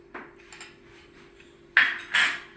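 Spoonfuls of desi jaggery go into a pot of winter raab, heard as a few faint taps followed by two louder metallic spoon clinks against the pot near the end, with no talking.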